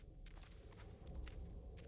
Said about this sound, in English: Why am I hearing like double footsteps?